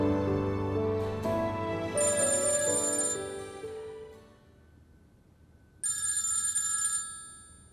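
A telephone rings in a bright, trilling electronic pattern, then pauses briefly before ringing again, loud and close with no voices over it.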